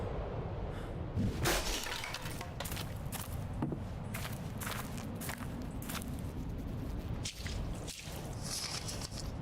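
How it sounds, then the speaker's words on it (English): Heavy stomping footsteps echo in the dark horror game Ad Infinitum: a string of irregular thuds and squelching steps, loud and close, with scattered drips and crunches over a low rumbling ambience. "I hear the sound, stomping and screaming"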